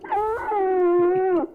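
A dog's whine, heavily processed for a sound-guessing game, one drawn-out wavering howl-like tone lasting over a second, loud and alone.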